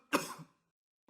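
A single short cough or throat-clear, close and fairly loud, lasting about half a second, followed by silence and a faint burst of sound at the very end.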